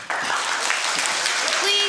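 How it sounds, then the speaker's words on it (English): Debate audience applause fills the space with steady, dense clapping that holds at an even level from start to finish. "Please withhold your applause."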